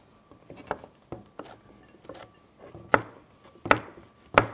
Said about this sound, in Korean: 파프리카도 먹기 좋은 크기로 썰어 주시면 됩니다